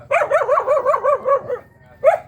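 A dog barks rapidly and loudly in a steady run of about eight barks, pauses briefly, then lets out one more bark.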